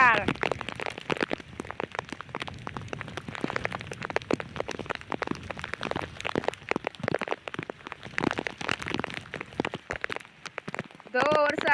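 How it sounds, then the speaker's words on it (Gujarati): Heavy monsoon downpour near Girnar in Gujarat pours down in a dense, crackling patter close by, with voices talking over it throughout and a brief bright tone near the end. "કેવો વરસાદ છે"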